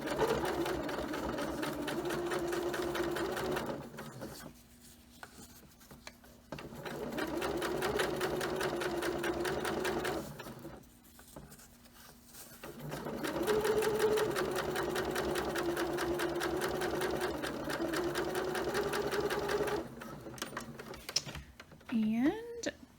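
A sewing machine topstitching the inner of an all-in-one cloth diaper runs in long steady whirring bursts, pausing twice briefly, close and fairly quiet with a little fabric handling between runs.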